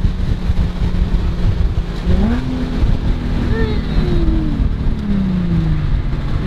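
A Nissan 350Z convertible fitted with a K&N Typhoon cold air intake drives along a busy street, its engine revving up and easing off in a few rising and falling pulls, with intake sound over steady road noise.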